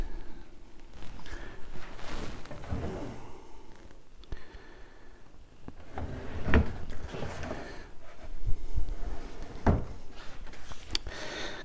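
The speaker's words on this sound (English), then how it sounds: "All the drawers are running nice and smoothly" Wooden drawers of a Victorian pine chest of drawers sliding open and shut, with soft repeated knocks and rubbing scrapes at an irregular pace, close and fairly quiet.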